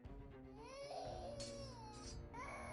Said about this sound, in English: You can hear children crying.